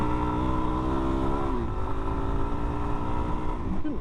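A dual sport motorcycle with non-knobby tires rides over bumps, its engine droning loudly and steadily with shifting pitch as it revs, heard from the rider's position.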